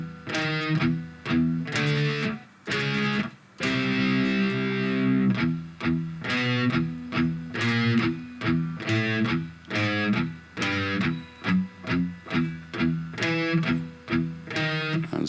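Distorted electric guitar plays a riff slowed down, palm muted, with tight repeated chugs and short accented power-chord hits in a steady driving rhythm, loud and close with no voices.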